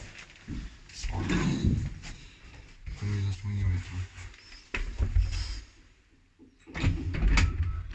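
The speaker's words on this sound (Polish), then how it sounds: "Zablokowały się drzwi, słuchajcie." Jammed lift doors in an apartment block sliding and banging as they stick, heavy rumbling thuds and scraping bursts under a voice talking in Polish, fairly close and loud.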